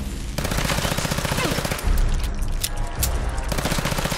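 An M1911 pistol fires in a Fallout 4 video game, a rapid run of loud, punchy shots with brief pauses and heavy echoing booms between bursts.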